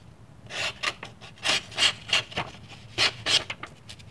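Old Kutmaster pocket knife blade with a broken tip, test-strokes on a sharpener after re-profiling: about ten short, raspy rubbing passes in an uneven rhythm, close and fairly loud with no talk.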